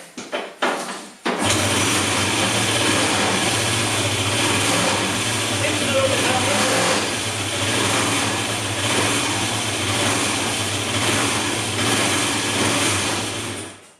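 An MV motorcycle engine cranks on choke with a few stuttering turns, then catches and runs loud and steady close by with a constant hum, tapering off at the end.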